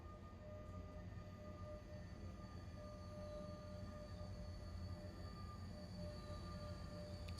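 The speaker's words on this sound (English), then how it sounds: "Can hear another train around somewhere." A passing train in the SimRail rail simulator gives a steady low rumble of rolling wheels, with faint high squeals and tonal whines above it. It holds at a constant moderate distance throughout and no one speaks.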